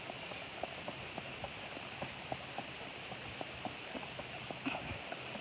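A paint-colored quarter horse cross walks along, its hooves clip-clopping in a steady, fairly faint rhythm of light evenly spaced knocks.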